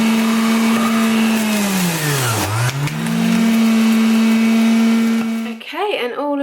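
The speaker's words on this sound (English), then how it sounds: "I am about to make a juice for my breakfast." A motorized juicer runs on carrots, pears, ginger and beetroot with a loud steady whine that dips sharply in pitch as it bogs down under load, then recovers before shutting off amid a few spoken words.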